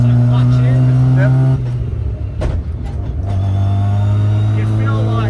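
A rotary-engined sleeper car drives hard with a loud, steady engine drone that eases off briefly mid-way, then settles back into a sustained high-revving tone.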